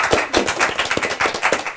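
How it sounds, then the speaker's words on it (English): A comedy show crowd claps along in a loose, fairly regular rhythm, with distinct close slaps repeating several times a second over a soft room background. "Everybody clap"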